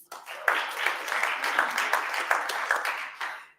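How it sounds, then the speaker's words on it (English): A crowd at a panel event applauds an introduced theatre maker and performer, a dense wash of clapping that starts almost at once, holds steady and full, then cuts off at the end. "Round of applause, please."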